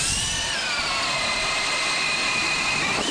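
A powered ice auger re-drills fishing holes through lake ice on a Wisconsin crappie trip, a loud, steady motor whine with grinding that runs unbroken and close throughout.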